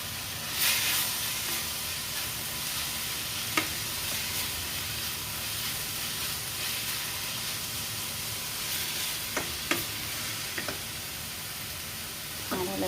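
Cabbage stir-frying in a pan on a gas stove until slightly crispy gives a steady, close sizzle with a few faint clinks of stirring throughout.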